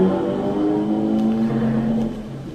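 A car passes along a fairly busy street outside a home, a steady close engine drone with a rising tone that fades slightly at the end, heard alone.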